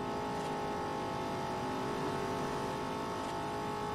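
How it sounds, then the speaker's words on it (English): A Lamborghini in the video game Forza Horizon drives at speed in a street race, its engine a steady loud drone with a sustained revving tone, close and continuous throughout. "Lamborghini wants to pass"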